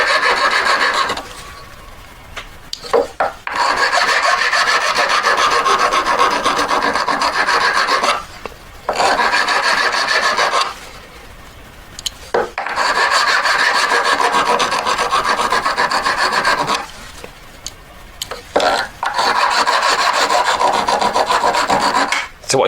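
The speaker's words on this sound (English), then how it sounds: "I do all the work getting it to the line by filing across it that way." A hand file rasps steadily against a jewellery piece, working it round to a marked line in long continuous bursts of strokes broken by brief pauses, close and fairly loud with no talking.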